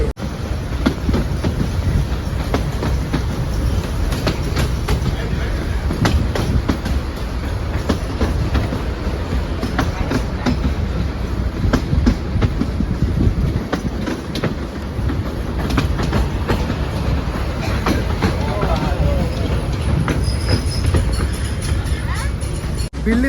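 A 100-year-old train on the single-track line from Bilimora to Waghai in Gujarat, heard from on board: loud, close, continuous rumble with rhythmic clickety-clack of wheels over rail joints and a faint squeal late on.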